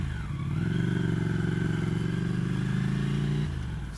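A 2015 Ducati Scrambler Icon with a Termignoni exhaust riding at a steady pace, its deep twin-cylinder rumble holding fairly even and close before easing off near the end.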